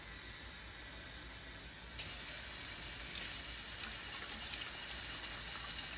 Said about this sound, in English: I'm gonna add some water to it now.